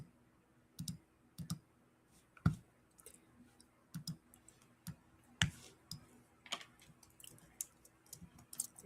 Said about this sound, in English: Let me go in and type that up.